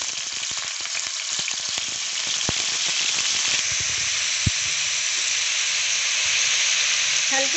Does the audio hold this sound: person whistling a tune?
no